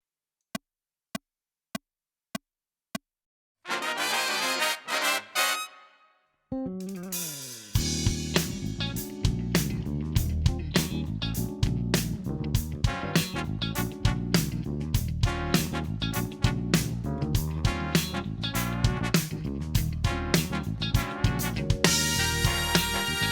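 A drum kit plays a big band intro from a chart: a few sharp stick clicks count in, then a snare roll, a brief pause, and full driving kit playing.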